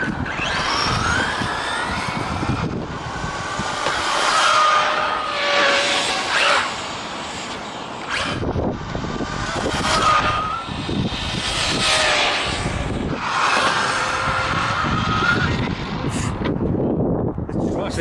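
A Zroad Comet RC car on a 4S battery with Bonzai RC Phantom parts, run at full throttle on a road, whines loudly with rising and falling high-pitched motor surges and wheelspin across the whole stretch, with some wind noise.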